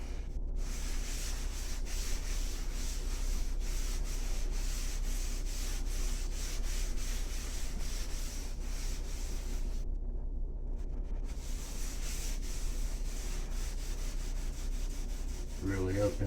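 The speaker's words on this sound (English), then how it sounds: "rub it into the wood" Rubbing finish into wood by hand during a bathroom repair: a steady, close, continuous rubbing and sanding-like friction that holds an even level throughout, with no speech and only a short dip in the high hiss partway through.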